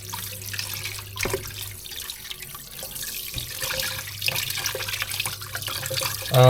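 Pork fat being rinsed under clean running tap water in a kitchen sink, a steady splashing stream with small sloshes and handling noises throughout, no talking.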